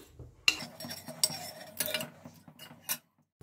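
Fried coconut pieces lifted out of hot oil with a metal utensil, giving several clinks and scrapes against a pan, close and moderately loud, with no talking.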